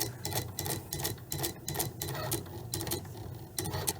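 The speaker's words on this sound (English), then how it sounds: "the machine will do both the drawing and the cutting for me" Cricut cutting machine drawing and cutting a custom label, producing a rapid run of close, loud ticking and clattering mechanical strokes with a steady motor whir underneath, no talking.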